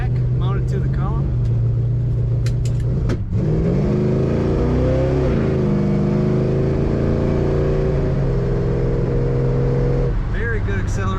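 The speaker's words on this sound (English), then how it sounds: "Very good acceleration in this car" A 1971 Chevrolet Chevelle Malibu convertible with an automatic transmission accelerates hard, its engine drone rising through the gears with a loud steady roar, one brief shift dip, and someone talking over it.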